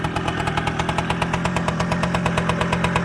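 A Kawasaki KE100 two-stroke motorcycle engine idling on its first start after sitting since 2020, a loud close, steady rapid popping exhaust beat with no talk.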